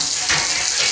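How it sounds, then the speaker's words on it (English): Water poured into a cooking pan in a kitchen, a loud, steady, close rush of splashing that continues for the whole short moment. "what I'm going to do is put a little bit of water in this pan right here"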